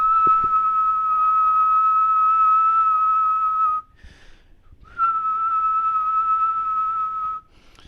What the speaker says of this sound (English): I'm going to be whistling through this mic